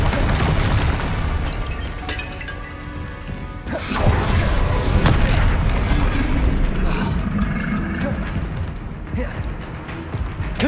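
Spell blasts from the Hogwarts Legacy video game, Bombarda, Confringo and Depulso cast in rapid succession, a dense continuous barrage of loud booms, crashes and crackling impacts with game music and effects layered throughout.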